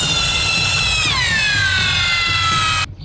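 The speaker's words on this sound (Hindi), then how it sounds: "वो एक बड़ा ड्रिल लेकर आया है" Large drill boring into the ground as a sound effect, a loud steady whining tone that drops in pitch partway through and grinds on under a low rumble before cutting off abruptly.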